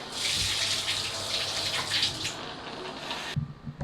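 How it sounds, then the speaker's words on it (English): Water runs from a filtered shower head into a natural patio fish pond, a loud steady hiss and splash that cuts off abruptly near the end, leaving a few faint drips and knocks. "Turn on the water."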